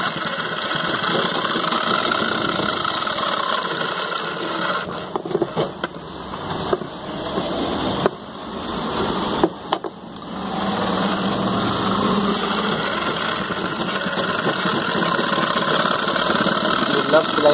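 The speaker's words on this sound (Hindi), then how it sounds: "एक चाप का सिलाई हो रहा है।" An industrial sewing machine stitches a denim jeans zip fly with a loud, steady whirring motor run, broken by a few short stops and restarts midway, while a person talks over it.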